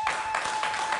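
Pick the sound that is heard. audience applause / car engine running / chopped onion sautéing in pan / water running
audience applause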